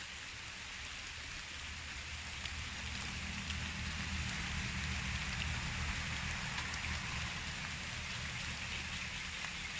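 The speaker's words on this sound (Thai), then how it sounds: "เนี่ยตอนนี้ฝนก็ตกอยู่ด้วยฮะ" Steady rain falls continuously at a beekeeping site with hive boxes, a dense, even hiss of drops with no talking, constant in loudness throughout.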